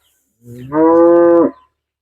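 A Holstein Friesian (HF) dairy cow gives one loud, close moo, rising from a low grunt into a sustained, strongly tonal call before cutting off.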